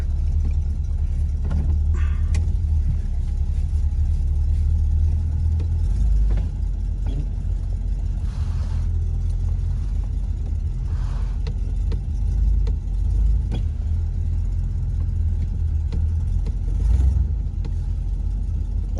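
A 1966 Oldsmobile Toronado engine runs steadily at a low, rumbling idle while the car is maneuvered on fresh gravel, with a few mild rises in revs throughout.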